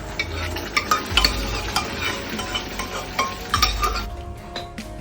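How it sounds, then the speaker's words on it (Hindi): A spoon stirs and scrapes in a pan while tempering lentils, with light clinks of metal, a soft sizzle underneath and a few sharper knocks near the end. "अब साथ ही साथ दाल में भी तड़का लगा देते हैं"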